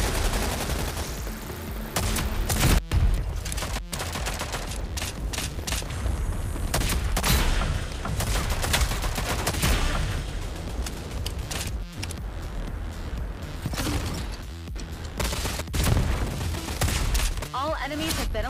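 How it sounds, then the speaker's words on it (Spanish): Shotgun blasts in the video game Rogue Company, heavy booming shots fired in quick bursts among other gunfire and game effects, loud and close, with some voice underneath. "Y la escopeta demuestra ser una de las mejores, ¿eh?"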